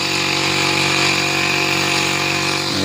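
A small pesticide sprayer engine drones at a steady, high-pitched whine throughout, loud and close, in an okra field, with no voices.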